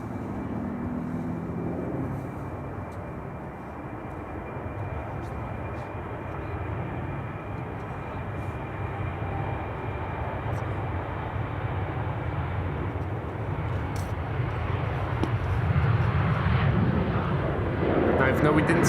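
China Airlines Airbus A350 taxiing at Amsterdam Schiphol, a steady distant jet engine roar that swells louder toward the end, with a person talking over it.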